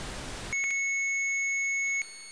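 Harsh buzzy square-wave tone from a test oscillator starts abruptly after a moment of noise, holding steady and loud before dropping in level near the end.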